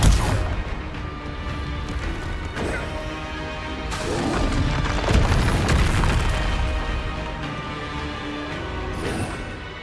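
Confringo blast spell in Hogwarts Legacy, a loud booming explosion with crashing impacts and rumbling debris, several heavy hits swelling over a dense game soundscape, no talk.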